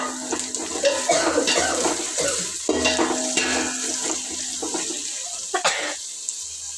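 Food is stirred and mixed in a cooking pot with coriander powder, making repeated scraping and sizzling strokes that come in uneven bursts, close and moderately loud.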